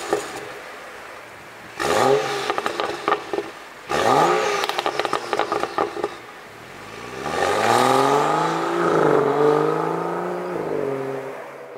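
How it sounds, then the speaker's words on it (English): A BMW M235i on a performance tune with a stock exhaust, driven in sport mode along a road: the engine revs up hard twice through gear changes with crackling bursts, then settles into a long, loud droning pull that rises and falls. "I'm just going to give you some exhaust noises so you can hear the car."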